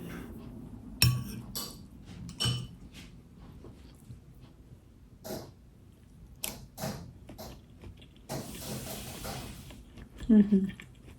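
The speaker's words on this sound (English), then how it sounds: "I'm just gonna go in with a spoon" A spoon clinks and scrapes against a bowl of dense bean salad, a few sharp close taps spread over several seconds, with soft rustling between them and a brief clatter near the end.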